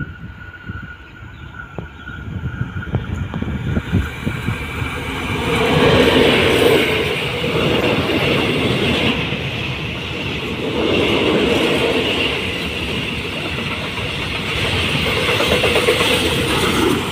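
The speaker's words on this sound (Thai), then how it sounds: "ไปแล้วนะครับขบวนรถสินค้า" Freight train number 556, bound for Laem Chabang port, rolls past a rural railway halt in Thailand, a loud, sustained rumble with rhythmic wheel clatter and metallic squeal as the wagons go by, without speech.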